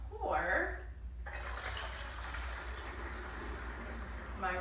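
Ready-to-use syrup pours through a funnel into a quart bottle, a steady liquid rush that follows a short spoken phrase and runs continuously, close and moderately loud.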